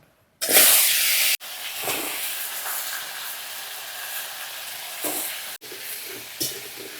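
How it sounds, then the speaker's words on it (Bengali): Chunks of potato and green banana sizzle and hiss in hot oil, up close. A loud burst of sizzling sets off a steady frying crackle, broken by short pauses while the pieces are stirred. "আলু আর কলাটা ভালো করে ভেজে নিয়েছি"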